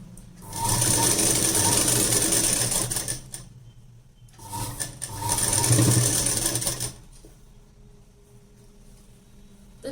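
A sewing machine stitching the sleeve of a plain blouse, running in two loud, steady bursts of rapid mechanical whirring, each about three seconds long, separated by a short pause, close up and alone.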